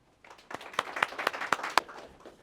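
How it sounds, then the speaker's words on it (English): A high school audience applauds a guest speaker, starting as scattered claps that build into a brief, moderately quiet round with a few sharp, distinct hand strikes standing out near the front. "let's give him a round of applause"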